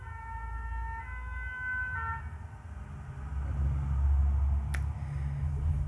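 Emergency vehicle sirens from police and fire services, wailing tones for the first two seconds, then fading under heavy low traffic rumble, with a sharp click near the end.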